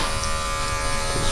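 Electric hair clippers with the lever up run through hair during a comb over fade haircut, giving a close, steady, loud buzzing hum throughout the short moment, with no talking.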